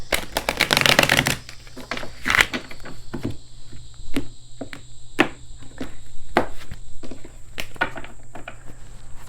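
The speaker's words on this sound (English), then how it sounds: "One more shuffle, please." Oracle cards being shuffled, a burst of rapid riffling followed by sparse soft taps and slides of the deck, close and quiet against a faint steady background hum.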